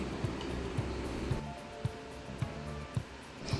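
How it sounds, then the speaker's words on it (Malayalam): Vegetables and rice being stirred together for pulao in a pan, a steady rushing hiss broken by soft, regular knocks about twice a second as the utensil turns the mixture. "നമ്മുടെ വെജിറ്റബിൾസും റൈസും എല്ലാം കൂടി ഒന്ന് നന്നായിട്ട് മിക്സ് ചെയ്തെടുക്കാം."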